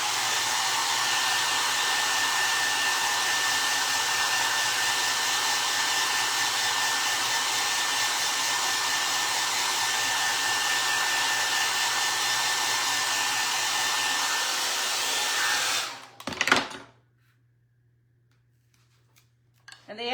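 A hair dryer blows loudly and steadily at close range for about sixteen seconds while drying a Dollar Tree craft frame, then switches off with a brief clatter, leaving near silence.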